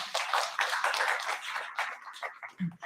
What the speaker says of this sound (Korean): 감사한 의미로 저희가 박수 한번 치고 오늘 사업 설명회 마무리하도록 하겠습니다